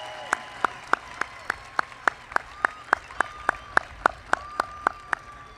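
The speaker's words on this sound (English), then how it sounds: "Let's offer one more round of applause to all our Beta Sigma Chi honors" Sharp, evenly spaced claps ring out at a college graduation ceremony, about one every quarter second, each crisp and distinct in a quiet, echoing hall.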